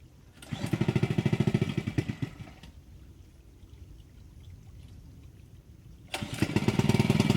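A small engine-driven water pump feeding a gold-mining high banker on a shallow Northern California creek, chugging loudly in bursts that fade to a low idle between, with water trickling underneath.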